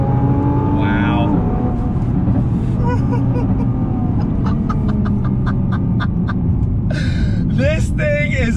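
A 2020 Nissan GT-R 50th Anniversary Edition drives hard around a track, a continuous loud engine roar from inside the car, with excited voices and short whoops breaking in over it.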